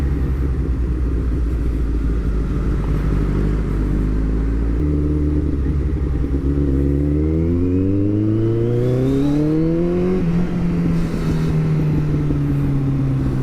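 A Kawasaki ZX14R motorcycle engine rumbles, then revs up through rising pitches as it accelerates hard, close and loud, shifting gears along the way.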